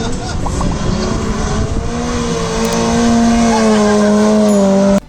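Race cars lap a track at the Mornay Festival, a loud engine note rising steadily in pitch as a car accelerates close by, holding a strong sustained drone before cutting off abruptly, with no talk over it.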